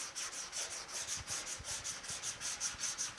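Close, even strokes of a hand sanding block scrape back and forth across the hood of a 1950 Chevy truck in a quick, regular rhythm, with soft knocks underneath.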